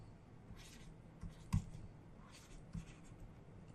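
Chalk or marker writing on a board during a math lecture, with a few faint taps and scratches, one sharper knock near the middle, over quiet room tone and no talk.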